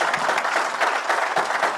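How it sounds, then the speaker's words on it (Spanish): An audience at a panel event on AI, cybersecurity and sustainability claps for the panelists, a steady wash of mid-distance applause with no voices on top. "señores, un aplauso para los panelistas"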